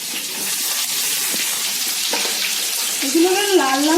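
Chopped garlic hitting hot oil for a chili chicken gravy gives a steady, loud hiss that fills the whole clip, with a brief tonal sound rising near the end.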